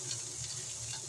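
Taki fish frying in a pan, giving off a soft, steady sizzle and hiss with faint crackles, fairly quiet and with no voices.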